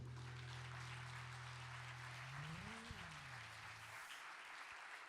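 Faint, steady crowd applause follows a concert performance. A sustained low tone runs beneath it and fades before the clapping carries on alone.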